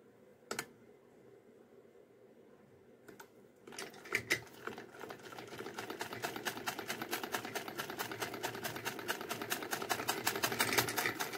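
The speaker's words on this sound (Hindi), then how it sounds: "हम इसकी कमर की गोलाई लेते हुए सिलाई लगाएंगे।" A sewing machine stitches the rounded waist seam of a small Laddu Gopal doll dress. A few isolated clicks come first, then a fast, close, rhythmic needle chatter builds and runs steadily to the end.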